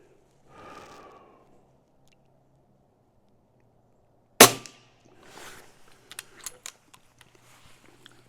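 A custom-built Umarex Notos air rifle firing 18-grain pellets gives one sharp, loud crack after a quiet stretch, followed by a short rattle of softer clicks and handling noises.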